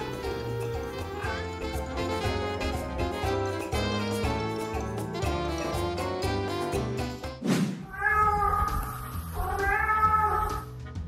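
Music plays, then a cat gives loud, drawn-out meows, two or three insistent calls close by after a brief thump.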